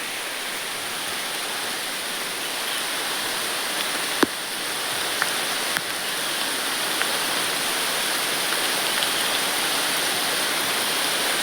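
Steady monsoon rain pours down around a coconut palm, a dense, even hiss with a few sharp drips and knocks standing out.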